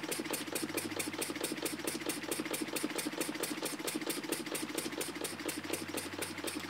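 A small Elmer's wobble-plate model steam engine chugs in a fast, even mechanical rhythm, steady and close throughout with no talking.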